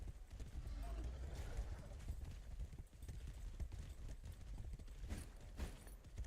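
Horse hooves clop rhythmically while riding in the video game Wayfinder, a quiet patter of steps with scattered impacts, and a voice talks over part of it.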